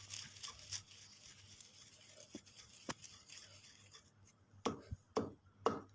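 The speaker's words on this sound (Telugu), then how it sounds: "ఇలా బాగా దంచుకొని మెత్తగా నలిగిపోవాలండి ఆ ఎండుమిర్చి మొత్తం" Dried red chillies being pounded in a stone mortar for a raw mango chutney: irregular dull thuds and gritty crunching strikes, fairly close but quiet, growing sharper and more frequent toward the end.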